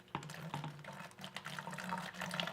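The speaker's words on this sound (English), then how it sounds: "So what I'm gonna do is put a little bit of hydrochloric acid in this bottle," Hydrochloric acid is poured into a bottle holding aluminum foil, giving a close, steady trickle of liquid with small clicks and splashes over a couple of seconds.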